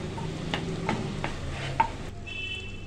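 Butter and oil heat in a cooking pan with a soft, steady sizzle, broken by a few sharp clinks of a spoon stirring against the metal. No voices.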